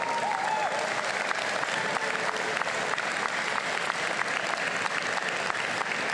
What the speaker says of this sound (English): Please join me in giving a warm round of applause to the dedicated team who made this exceptional commencement ceremony possible.